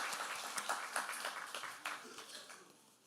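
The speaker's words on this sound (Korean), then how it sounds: "박수해 주시죠" Congregation applause at a Sunday worship service, a lively round of clapping from many people that starts strong and gradually fades out over a few seconds.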